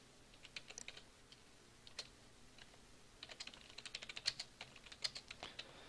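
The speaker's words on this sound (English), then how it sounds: "I can hear KILZ typing" Someone types on a computer keyboard during a live game stream. Quiet, irregular key clicks come in bursts, thickening into a faster run of taps toward the end, with no talking.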